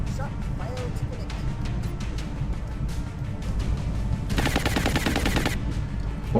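Gunfire in the video game XCOM: Enemy Unknown, a rapid burst of shots rattling over a steady game background for about a second, with scattered sharp clicks and thuds before it.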